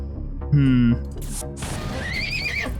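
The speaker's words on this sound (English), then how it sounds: "Oh god, the horse." A loud horse neighs in the game FTL amid other effects, followed by a rising whinny-like cry, with a voice talking beneath.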